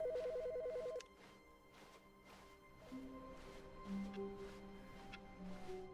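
A telephone's electronic warbling ring ends within the first second, followed by a quieter stretch of faint tones and background hum with no voices.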